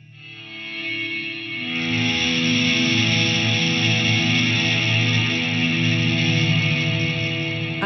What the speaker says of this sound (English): The only thing he's using on this specific show is distortion, which is a light distortion. It sounds more like it's a crunch.